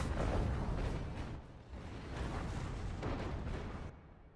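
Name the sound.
pelters shooting in a video game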